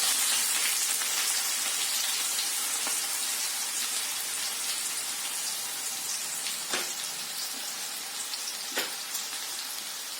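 Mustard seeds crackle and sizzle in hot cooking oil, a dense steady hiss with scattered pops that stays loud and close for the whole stretch, no voices over it.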